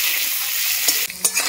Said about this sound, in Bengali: আমি সরষের তেল দিয়ে ভাজছি